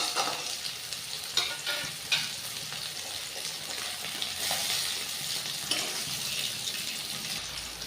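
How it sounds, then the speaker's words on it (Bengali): Whole cumin seeds frying in oil in a pan give a soft, continuous sizzle with occasional crackles and stirring scrapes, fairly quiet and close, with no talking. "এবারে দিয়ে দেবো আমি গোটা জিরে, পরিমাণ মতো গোটা জিরে। পুরোটা আমি ভালো করে এখন ভেজে নেব।"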